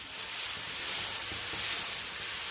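Pesarattu batter sizzles on a hot pan, a steady close hiss of frying that holds evenly throughout with no voices.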